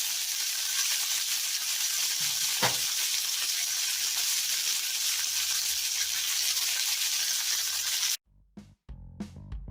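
Lamb shoulder chops sear in a hot pan with a loud, steady, close sizzle that cuts off abruptly near the end, followed by a few brief clatters.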